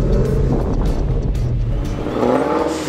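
A supercharged Mustang roars loudly and close at a track day, its engine note heavy and continuous with rising revs and rumbling low end throughout.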